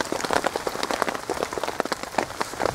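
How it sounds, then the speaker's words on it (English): Heavy rain driven by strong wind pelts a wild campsite, dense irregular patter and splatter on a nearby surface that keeps going throughout, with no voices. "the wind and rain has started coming in ridiculously heavy now"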